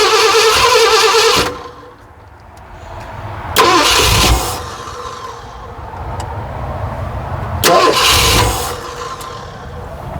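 A 1969 Ford F100 truck engine being cranked during an emergency repair with a timing problem: loud bursts of starter cranking at the start and twice more, with an engine rumbling between attempts, close up and without talk.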